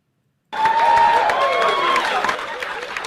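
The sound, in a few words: audience clapping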